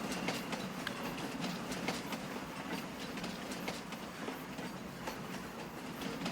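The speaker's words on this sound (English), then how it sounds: "a nice long train, though." A long train rolling past in Farming Simulator 25, a continuous rumble with steady clickety-clack of wheels over rail joints at moderate distance, no talk.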